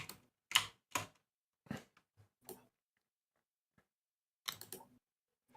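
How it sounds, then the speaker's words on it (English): Keystrokes on a computer keyboard come in a few separate bursts of quick clicks with quiet gaps between them, close and fairly soft, with no talking. "It's because I'm typing."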